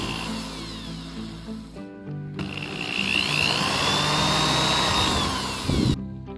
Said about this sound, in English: Now we got the series of holes drilled on either side of the crack the whole way down through.